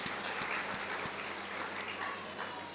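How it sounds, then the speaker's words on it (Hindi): A small audience claps for a doctor on an eye-health talk show, producing a fairly faint, steady patter of hands with a few sharper individual claps standing out. "वाह, तालियां होनी चाहिए डॉक्टर साहब के लिए"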